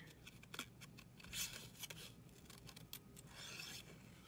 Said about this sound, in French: ce qu'on fait, c'est qu'on tourne le papier quand on coupe